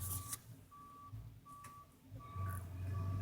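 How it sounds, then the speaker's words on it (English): Snow plow truck out in a blizzard in Methuen, MA, its reversing alarm sounding as repeated steady beeps over a low diesel engine rumble that swells toward the end, heard from indoors. "There's a plow going over there. Going by. See the truck?"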